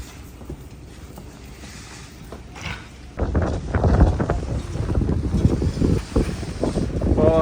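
Strong wind buffets the microphone in rough, roaring gusts, growing louder partway through and rumbling on unevenly.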